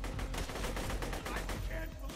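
Rapid gunfire from weapons in the video game Borderlands 2, a dense steady stream of shots and impacts filling the whole stretch with game sound beneath.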